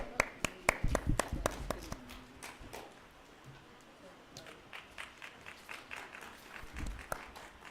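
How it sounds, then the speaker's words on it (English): Scattered applause at a plenary session of a university annual convention at SKUAST-K, Shuhama, sharp individual claps that come in bursts, fade into sparse clapping, then pick up again, fairly quiet in a hall. "A big round of applause."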